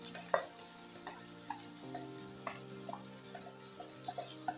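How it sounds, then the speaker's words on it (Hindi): Onions frying in hot ghee and oil in a pan, a steady sizzle with scattered stirring scrapes and clinks, close and moderately loud with no talking. "साथ में मैं यहाँ प्याज डाल रही हूँ। सबसे पहले माशाल्लाह घी गर्म हो चुका है।"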